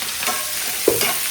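A spoon stirs and scrapes ingredients sautéing for mutton curry in a large cooking vessel, with a soft sizzle underneath and one sharper scrape near the end.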